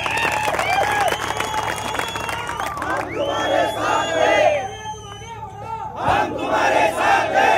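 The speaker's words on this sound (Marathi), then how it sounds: "पण गर्दी मात्र आपल्याकडे इथं समोर बसलेली आहे" A large crowd at a political election rally roars and chants in loud, repeated waves of shouting and cheering, with a voice amplified through speakers between bursts.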